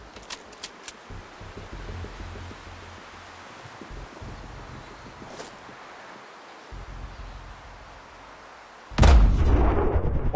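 Sniper Ghost Warrior Contracts gameplay: after a stretch of quiet rustling ambience with faint clicks, a single loud gunshot cracks out and its boom rolls on into the end.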